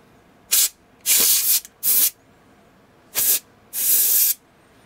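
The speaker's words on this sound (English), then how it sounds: "hit everything with some compressed air if I can find it" Compressed air can spraying on an Asus Vivobook 16 M1605XA laptop during disassembly: five loud, close hissing bursts of varying length, two short and three longer, separated by quiet pauses.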